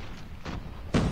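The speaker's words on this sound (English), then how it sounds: "Comes a grenade." A grenade blast in Call of Duty Mobile lands as a loud, close thump near the end, after fainter thuds of gameplay action earlier in the short stretch.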